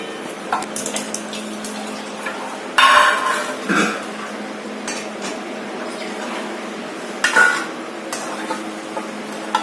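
Cooked dried-fish curry with home-grown eggplant being poured out of the cooking pot, heard as close clanks and scrapes of metal against metal with a few louder knocks, the rest a quiet kitchen background.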